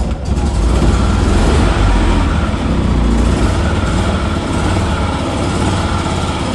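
A BMW Isetta's small engine runs steadily right up close, a loud, dense mechanical drone that holds without a break and with no voices.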